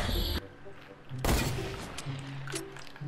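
Sniper rifle gunfire in Fortnite: a loud, sharp shot at the start and another powerful blast about a second later, with game sounds in between.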